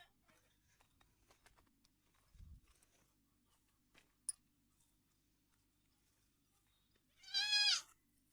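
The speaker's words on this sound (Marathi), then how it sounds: "हे दोन वयस्कर शेळ्या आहेत" On a goat farm, a single adult goat gives one loud, wavering bleat near the end after a long quiet stretch. Faint rustling, a low thud and a soft click come before it.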